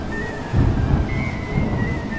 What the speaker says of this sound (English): The storm has broken.